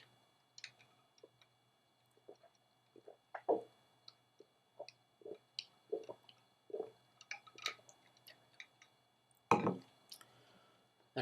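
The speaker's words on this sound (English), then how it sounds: "I'm just going to take a sip of water" Someone takes a sip of water in a quiet room, heard as scattered small wet mouth clicks and swallows, with one louder gulp near the end; no talking.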